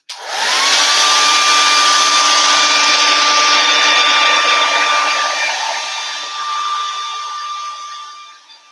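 A hair dryer blows loudly and close, drying paint on a garden can, a steady high-pitched whine and rushing air that holds for several seconds before easing slightly, with no talking.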